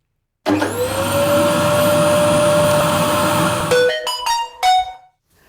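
A vacuum cleaner recording starts abruptly, whining at a steady high pitch with a loud roar for about three seconds, then spins down in stuttering bursts before stopping.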